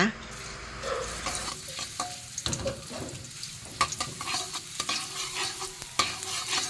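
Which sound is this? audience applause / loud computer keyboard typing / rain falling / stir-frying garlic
stir-frying garlic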